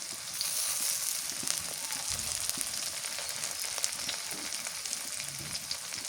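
Chili sizzling in hot oil in a pan as a Bengali fish curry is being cooked, a continuous close crackling fry with faint scattered pops and no voices.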